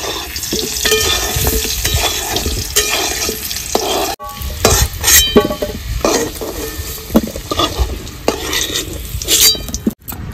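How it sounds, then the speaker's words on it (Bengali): Potatoes frying in oil in a pan for a village-style desi chicken curry, a steady loud sizzle broken by repeated scrapes and clinks of a spatula stirring against the pan, close up with no talking. "আলু ভেজে নিয়েছি, তুলে নেব।"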